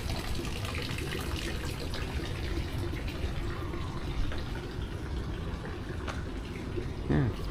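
Water pouring and splashing steadily at a Japanese temple purification basin, a continuous gushing trickle from a ladle, close and fairly loud throughout.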